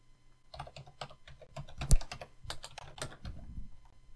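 Rapid typing on a computer keyboard, with irregular bursts of close, crisp key clicks and a few heavier strokes, alone with no talk.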